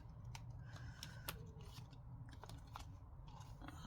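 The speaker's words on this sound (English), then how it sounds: "let's cut off our edges over here" Scissors trim the edges off a paper gift tag, giving several close, crisp snips in an uneven rhythm over a soft background hum, with no talk.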